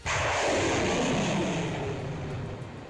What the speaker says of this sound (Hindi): रूस की फौज ने आसमान में उड़ रहे ड्रोन पर ताबड़तोड़ रॉकेटों की बारिश शुरू कर दी